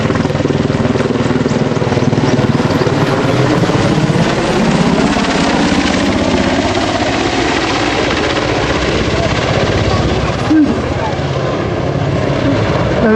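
An EH101 Merlin helicopter makes a last flypast at an air display, its loud rotor thump and turbine roar holding steady and near throughout.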